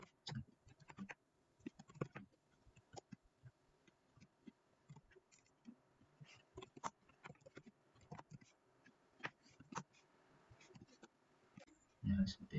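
Someone types on a computer keyboard while entering code. The keystrokes come in quiet, irregular clusters of clicks close to the microphone. A voice speaks briefly near the end.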